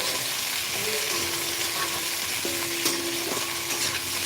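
Potatoes fry and get stirred in a spice masala, giving a steady broad sizzle with a few scraping stirs and faint tonal clinks, close and continuous with no talking.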